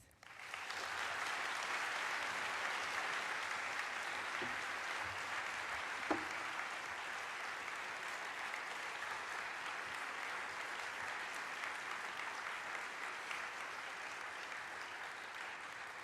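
Sustained audience applause at an academic plenary address welcoming scholar Jonathan Z. Smith, a large hall of steady, even clapping that continues without break, with no talk over it.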